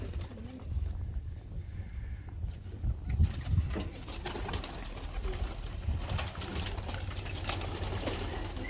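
Several racing pigeons coo in low, throaty rolls amid rustling and fluttering, with steady background noise throughout.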